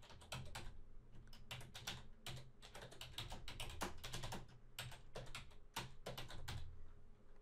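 Computer keyboard typing in fast, steady runs of crisp key taps with brief gaps, close and fairly quiet with no talking.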